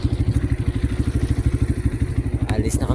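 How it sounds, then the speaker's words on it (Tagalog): Motorcycle engine running steadily with rhythmic pulsing and clatter while riding downhill on a slippery rough road, close and loud throughout, with a brief higher whine near the end. "Ang aking motor. So dito pababa na."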